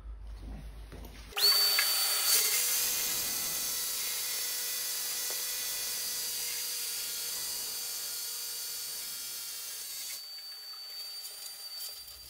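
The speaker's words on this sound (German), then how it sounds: "Deswegen würde ich sagen, bohren wir jetzt erstmal hier die Löcher." A power drill bores holes into a concrete floor to anchor the columns of a two-post car lift, a steady loud whining drone that starts abruptly and runs for about nine seconds before cutting off.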